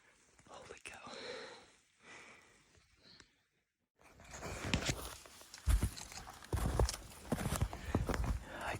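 White-tailed buck bounding away through Maine woods, with brief crashing footfalls and rustles among leaves after a pause, close and irregular, while a man whispers quietly earlier.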